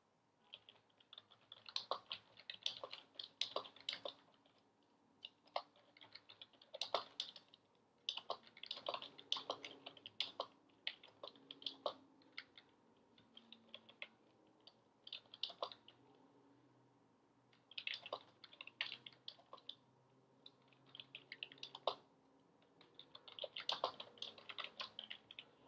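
Quiet computer keyboard typing in irregular bursts of rapid key clicks with brief pauses between, close and alone with no speech.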